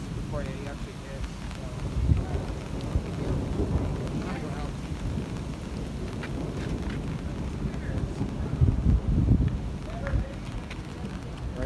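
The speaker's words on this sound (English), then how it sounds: "Right now, we're about to get blasted by rain" A heavy thunderstorm sweeps over Bolivar, West Virginia, with a broad roar of rain and wind and a couple of low rumbling swells, while a person talks excitedly over the downpour.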